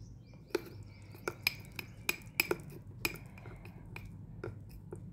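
Slime is mixed with activator in a bowl, with a utensil giving irregular light clinks and taps against the bowl over a faint background hum and no voices.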